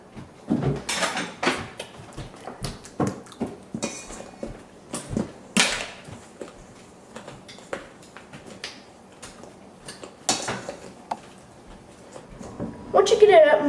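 Butter being mashed in a bowl with a butter masher while making fried apple pie, heard as scattered dull knocks and scrapes in short bursts between stretches of talking.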